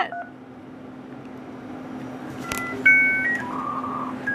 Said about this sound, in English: That's what it used to sound like when you connect to the internet.